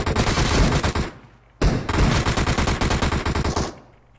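Automatic rifle fire in PUBG Mobile on the Sanhok map, two long loud bursts of rapid shots close up, separated by a brief pause, with no talk over them.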